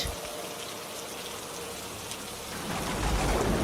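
Steady rain falls on surfaces, a dense hiss that swells louder near the end, set in a ghost story.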